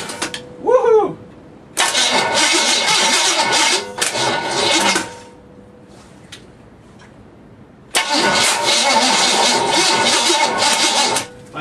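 A small block V8 in a home-built project car cranks on booster cables, catches and runs in two loud bursts separated by a quieter stretch, with short cranking sounds before each start.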